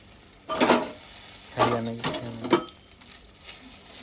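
Egg and Maggi noodle mixture frying in a generous pool of oil on a hot tava griddle, giving three loud bursts of close sizzling and stirring with quieter crackle between them.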